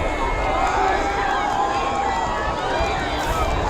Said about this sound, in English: This crowd is getting loud.